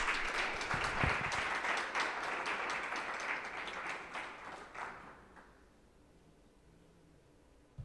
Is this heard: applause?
yes